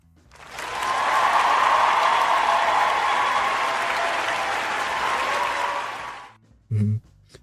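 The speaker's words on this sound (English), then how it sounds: "I need that effect to go for longer. I need a longer applause." Applause sound effect played in a comedy commentary show, a dense, loud burst of clapping that swells quickly, holds steady for about six seconds, then cuts off abruptly, followed by a brief low thump.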